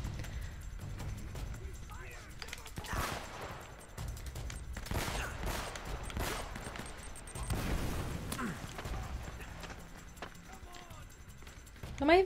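Gunfire in the video game Uncharted: Drake's Fortune, rapid bursts of shots and impacts spread throughout amid game noise, with someone talking over it.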